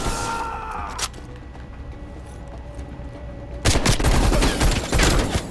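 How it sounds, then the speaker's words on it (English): Gunfire in Call of Duty: Black Ops Cold War comes as loud, dense bursts of rapid shots, a sharp volley at the start and a heavier sustained barrage toward the end over a rumbling game backdrop. "they're shooting at us."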